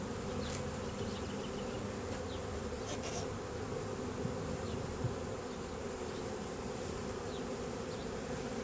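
A swarm of honeybees buzzes in a dense, steady drone that fills the whole stretch, close and continuous with no voices.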